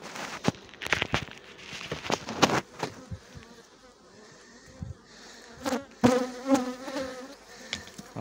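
Honeybees buzz busily up close, with bursts of knocking and rustling handling noises mixed in.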